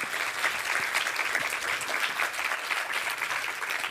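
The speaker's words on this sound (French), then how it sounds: "Oui, sous vos applaudissements, s'il vous plaît." Steady, dense clapping from an audience at a talk, sustained at an even level for several seconds with no voices standing out.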